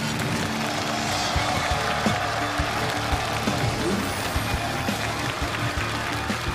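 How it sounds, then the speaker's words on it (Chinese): Studio audience applause greets a jump-rope team, the Australian double-dutch speed world champions, as they walk onto a Chinese TV challenge show stage; a dense, steady wash of clapping fills the whole stretch at an even level. "掌声有请他们出场。"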